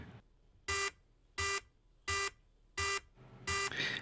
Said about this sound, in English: I go ahead and hit the button, and she starts beeping.